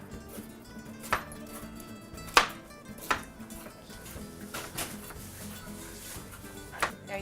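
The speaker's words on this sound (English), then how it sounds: "We start with the chopping again." A knife chops carrot on a board for a ragu soffritto, with a handful of sharp, irregular thuds spaced out over quiet kitchen background.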